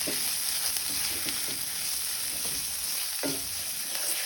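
Onion masala with chilli powder, salt and a splash of water simmers in a pan for a creamy veg kadai, a soft steady sizzle beneath gentle spoon scrapes and occasional taps, fairly quiet and without talk.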